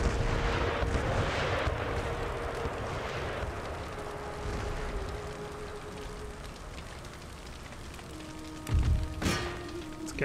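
Cannon volleys from an army besieging a fortified wall rumble through a battle in Empire: Total War, a dense rolling wash of distant booms with one sharper, louder blast near the end.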